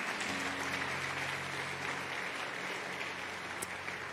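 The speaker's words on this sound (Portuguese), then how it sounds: "Pode aplaudir ao Senhor por isso." A church congregation applauds steadily, a dense wash of clapping at moderate distance lasting the whole stretch, with a faint low hum behind it.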